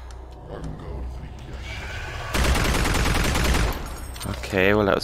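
Gunfire from the Doom 3 VR video game, fired with a PS Aim controller: a loud dense burst of rapid shots about halfway through, with game noise and talk elsewhere.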